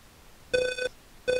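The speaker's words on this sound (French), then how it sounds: "Et voilà, le fameux téléphone en question." A telephone rings in the Maniac Mansion video game: two short, bright electronic ring bursts separated by a brief pause, clear and close with no talking.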